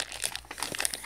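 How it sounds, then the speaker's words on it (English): Crinkling plastic blind bag toy packaging being cut and torn open, a quick run of close, crisp crackles and rustles with no talk over it. "let's cut open all these blind bags."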